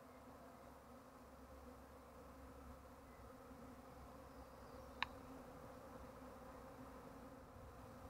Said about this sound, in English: you can see that there are thousands and thousands of bees in the air around me